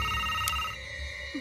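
A telephone ringing indoors in a horror movie scene, a steady electronic bell tone held for just over a second over a low background hum, with no voices.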